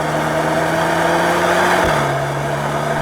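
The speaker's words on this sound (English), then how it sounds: "Even the engine sounds a bit fruity, like a 5-cylinder, even though it's a 4-cylinder." A new Audi S3 four-cylinder engine pulls hard under acceleration, a steady, loud drone that climbs and then drops slightly in pitch at a gear change before carrying on.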